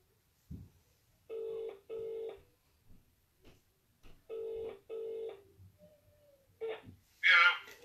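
Outgoing phone call ringback: paired ring tones repeat steadily in a quiet room, two double rings then two more, followed by a short burst of a voice or noise at the end.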